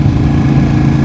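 A Ducati Panigale 959 motorcycle with an aftermarket exhaust rumbles at a steady idle, loud and close, a deep uneven low-frequency burble with no other sounds.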